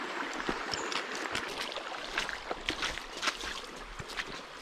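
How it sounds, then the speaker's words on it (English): A small creek in the Costa Rican jungle gurgles and trickles, faint and close, with soft irregular splashes and water babble over a quiet background. "There's a little creek in there."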